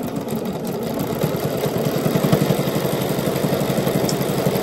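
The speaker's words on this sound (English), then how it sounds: "And then I just start sewing until this point here reaches the little red dot that's up here." A sewing machine stitches Cashmerette Vinton pants with a steady, rapid mechanical whir and fine pulsing beat that runs continuously and fairly loud.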